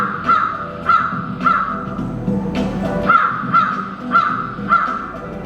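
A crow caws repeatedly, harsh loud calls in quick bursts of two or three, close and dominating over a low background murmur.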